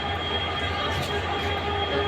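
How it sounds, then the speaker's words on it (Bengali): Loud, steady rumble and hum of a train at a crowded station, with a continuous mechanical drone filling the space and no clear speech. "এখন উঠবো ট্রেনে, আর বেশি সময় বাকিও নেই, ট্রেন ছেড়ে দেবে।"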